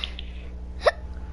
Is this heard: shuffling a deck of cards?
no